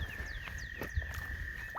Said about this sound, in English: All these little frogs down in here.